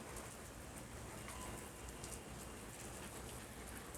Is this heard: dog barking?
no